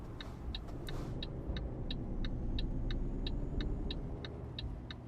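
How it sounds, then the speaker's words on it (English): A Volvo truck's engine in Euro Truck Simulator 2 drones as a steady low rumble inside the cab, with a faint, regular ticking, likely an indicator, clicking over it; no voices are heard. "this Volvo, by the way, is a bit noisy"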